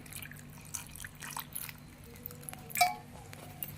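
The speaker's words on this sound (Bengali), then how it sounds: "এবার বেলের মধ্যে জল দিয়ে দিচ্ছি পরিমাণ মতন" Water is poured over scooped wood apple pulp for a summer sherbet, producing faint, scattered wet drips and soft squishy splashes, with one brighter splash near the end in a quiet room.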